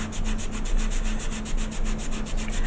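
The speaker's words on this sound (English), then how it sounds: "I'm using a sponge sander here because I don't want anything too harsh or abrasive at the moment." A sponge sander rubs across a wooden Tardis model in steady, rhythmic back-and-forth strokes, close and continuous with no talking.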